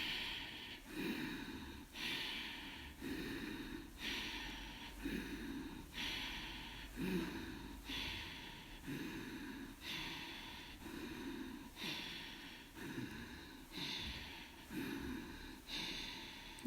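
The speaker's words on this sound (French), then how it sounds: "Inspire, expire. Inspire, expire. Continuez un peu." Slow, deep breathing during a yoga session, steady in-and-out cycles roughly every two seconds, close and audible with no talking.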